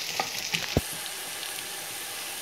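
Sliced onions tossed into a hot pan and stirred give a steady sizzle, with a few soft spoon taps and one sharp knock early on before the frying hiss continues alone.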